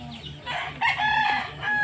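Chickens, apparently farm birds with coryza, cluck and crow loudly and close by in a short burst, the calls overlapping in rising and falling bursts with no talking.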